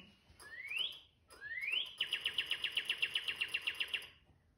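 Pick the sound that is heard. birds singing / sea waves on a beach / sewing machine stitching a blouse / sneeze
birds singing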